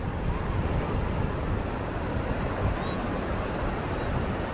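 Surf where the Karli river meets the Arabian Sea at Devbag Sangam Point near Malvan, a steady broadband wash of waves with wind across the microphone, even and continuous throughout.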